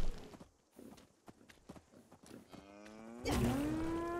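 A cow in the Fallout 76 video game lets out a loud drawn-out moo near the end, after a series of soft clopping hoof steps and light taps.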